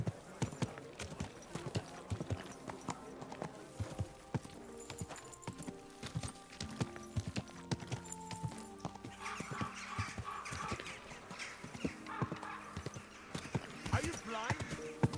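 Rhythmic clip-clop of horse hooves on a hard surface in Kingdom Come: Deliverance II, steady and fairly close, with occasional other game sounds layered over it.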